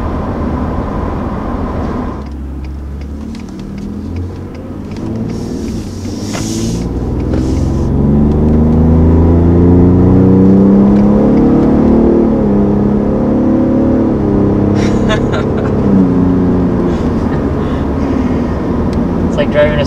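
A 2020 Ford F-150 Raptor with a 3.5-liter twin-turbo EcoBoost V6 accelerates, its engine rumble rising and swelling steadily inside the cab while someone talks over it.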